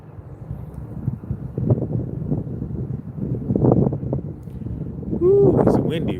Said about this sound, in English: Woo, it's windy